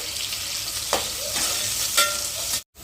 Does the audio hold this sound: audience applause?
no